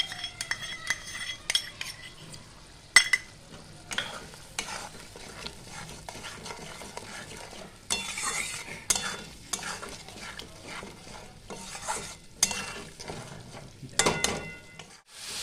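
A masala of spices and sour curd is sautéed for a paneer curry, with repeated spatula scrapes and clinks against the pan over a soft sizzle, close and in irregular bursts.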